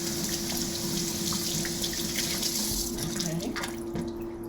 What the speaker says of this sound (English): I'm going to rinse out our half cup measure that we just used.